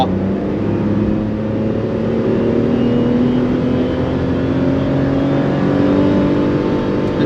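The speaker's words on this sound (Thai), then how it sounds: "ลองที่ความเร็วลอยตัวกันบ้างนะครับ จาก 60 ไหลไปแตะที่ 100กิโลเมตรต่อชั่วโมงนะครับ" Suzuki Celerio GL hatchback accelerating from 60 to 100 km/h, a steady engine drone rising gradually in pitch, loud and continuous from inside the cabin with road noise beneath.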